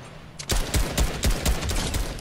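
Gunfire in Fortnite Battle Royale, a rapid burst of about eight sharp shots in quick succession, fairly close and loud, over a steady background of game ambience.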